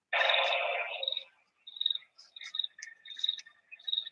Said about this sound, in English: I do like the sound of crickets.